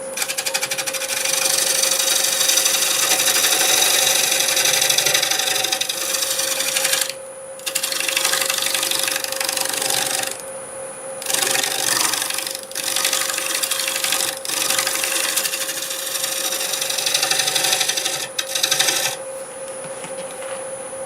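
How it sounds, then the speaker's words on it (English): A tool shear-scrapes steadily against spinning black walnut on a lathe, a continuous raspy hiss broken by a few short pauses, close and fairly loud. "Do a little shear scraping along this wall here"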